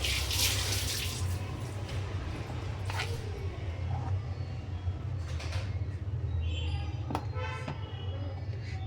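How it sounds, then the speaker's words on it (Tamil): Peeled onions being washed under running water from a tap, a continuous splashing flow close by with occasional clinks, and someone speaking in the background. "இப்போ இதை வெங்காயத்தை வந்து கழுவி எடுத்துக்கலாம்"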